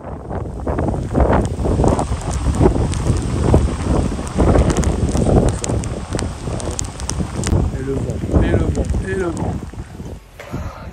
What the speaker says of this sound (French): Il y a du vent, de la pluie, je sens plus mes mains.